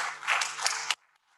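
Applause from an audience at a World AIDS Day 2020 event in Uganda, a steady dense patter of clapping for about a second that cuts off abruptly, leaving quiet room tone.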